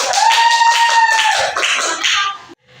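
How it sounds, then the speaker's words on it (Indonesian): Students in an Indonesian classroom clap for classmates, a brisk burst of many hands close by with a tonal whistle-like ring over it, ending abruptly into near silence. "Berikan tepuk tangan untuk mereka."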